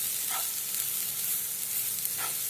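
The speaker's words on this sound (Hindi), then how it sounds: "अब उसमें गरम मसाला डालेंगे, इसे मिक्स कर लेते हैं।" Garam masala sizzles steadily as it is stirred into red chili powder that was already roasted in oil, with two soft scraping strokes of the spoon over a constant hiss.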